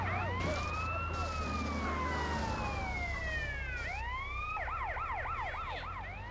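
An ambulance siren in GTA San Andreas on PS5 wails in long rising and falling sweeps, then switches to a fast yelp, steady and fairly close, alone with no talk.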